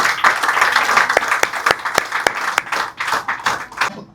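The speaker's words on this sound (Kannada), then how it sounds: "ಇವ್ರಿಗೆ ಜೋರಾದ ಚಪ್ಪಾಳೆ ಬರ್ಲಿ" Loud, close applause from an audience at an influencer awards ceremony. Sharp individual claps stand out within the steady clapping, which then thins and fades out over about four seconds.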